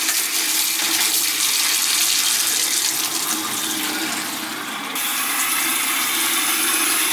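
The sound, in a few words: water running from tap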